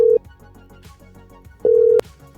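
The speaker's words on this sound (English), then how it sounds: "Okay, it's ringing." Telephone ringback tone on a call being placed, heard as two steady electronic tones, a short one then a longer one, clear and alone with a faint background hum.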